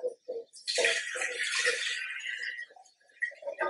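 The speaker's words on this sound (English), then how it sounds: "So I am going to pour this back in." Homemade roasted chicken stock poured back into a pot, a continuous splashing liquid stream lasting about two seconds, close and clear, with soft clinks of a pot before and after.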